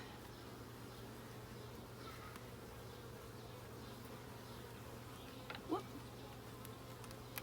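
Honeybees buzz during installation of new bees into a hive: a faint, continuous droning hum under quiet outdoor background, with a brief short exclamation near the end.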